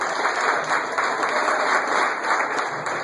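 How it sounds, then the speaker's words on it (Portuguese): A church congregation claps together during a wedding service, dense rhythmic hand-clapping that pulses steadily and fills the room with no break for the full stretch. "Dê um louvor de palmas ao Senhor."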